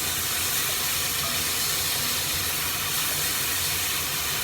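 Port wine glugged into a hot casserole pan with beef sizzles as a steady, loud, continuous hiss that holds unbroken throughout, close and alone.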